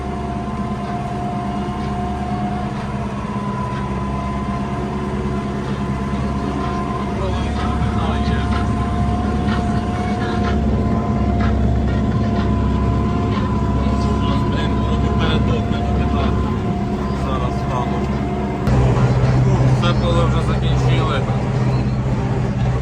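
A tractor ploughing a garden plot labors steadily nearby, a low droning rumble with a tonal hum that grows heavier and louder near the end.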